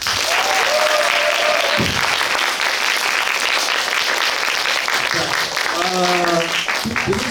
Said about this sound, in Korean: 다시 한번 크게 박수 한번